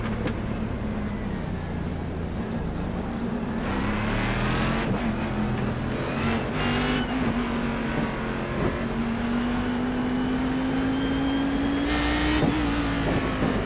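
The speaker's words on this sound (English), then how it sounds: "Just love this car. Love the sounds this car makes." A race car engine in the iRacing video game at Monza holds a steady drone that slowly climbs in pitch, with a few short bursts of revving and gear changes and no talk.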